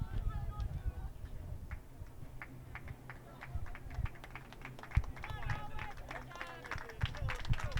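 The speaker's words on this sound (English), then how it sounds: "You love to hear the applause for all the runners." Scattered clapping and cheering from fans at a varsity high school track meet, Norwood versus Norton, steady and moderately distant, mixed with crowd chatter and talk throughout.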